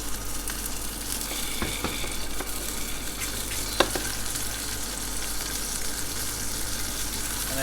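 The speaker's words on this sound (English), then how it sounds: "get your frying pan on with a bit of oil. And then literally we're just going to render this skin down so it's nice and crisp" Lamb skin rendering in oil in a frying pan, a steady close hiss and sizzle throughout with a few small pops and one sharper crackle, no voices.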